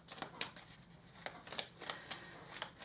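Oracle cards being shuffled by hand, a series of quiet, soft riffling bursts at an uneven rhythm, close and alone.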